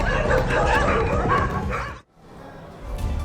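A pack of dogs barks and yelps in a dense, loud clamor while attacking a cow, cutting off abruptly partway through before fainter background noise resumes.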